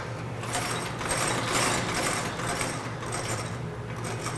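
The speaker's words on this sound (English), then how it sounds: "So this is the Goodyear welt machine." A Goodyear welt machine stitching the sole of a Red Wing boot, a steady close mechanical clatter of rapid, rhythmic needle strokes over a constant motor hum.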